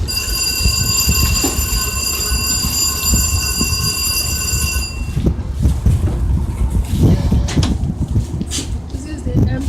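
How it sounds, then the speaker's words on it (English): An Amtrak train rolls past loudly on the railroad, its horn blaring steadily for several seconds before giving way to heavy rumbling and clattering wheels; a voice speaks briefly nearby. "This is the Amtrak."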